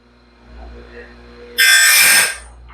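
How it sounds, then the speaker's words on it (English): Sharpener grinding the tooth face of a DIY sawmill band blade, a single loud bright grinding burst of about one second after a quiet hum. "I'm just basically sharpening the face of the tooth"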